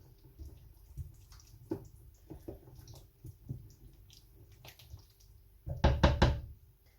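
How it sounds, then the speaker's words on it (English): Cauliflower being stirred into a one-pot low-carb chicken curry, soft scattered knocks and wet shuffles early, then a louder cluster of spoon knocks against the pot near the end, no talking. "And then we're going to add our cauliflower. Give that a good stir."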